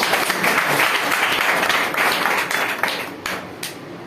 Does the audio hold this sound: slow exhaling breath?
no